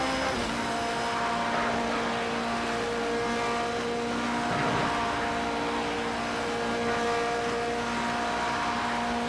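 A hybrid Porsche race car deploys its boost on the Nürburgring Nordschleife: an onboard engine drone, loud and sustained, with strong steady tones that rise slightly as the car pulls hard, and no talking.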